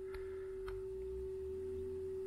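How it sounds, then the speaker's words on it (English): A steady 400 Hz sine test tone plays on a 1975 Nakamichi 600 cassette deck. It holds one constant pitch, faint and continuous, with a couple of soft clicks early on. "show you how good a 400 Hz sine wave looks on this machine"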